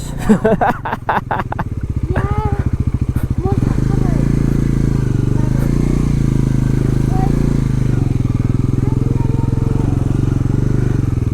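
A motorcycle engine putters and rumbles steadily while riding over an uneven off-road hill track in Khotang, Nepal, with brief voices and clatter early on before the engine drone dominates.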